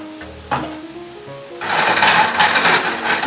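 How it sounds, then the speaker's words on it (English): Mushrooms hit melted butter in a sauté pan over medium-high heat, with a quiet start and then a sudden, loud, broad sizzle that holds steady. "in a saute pan over about medium-high heat. And we're going to add the mushrooms."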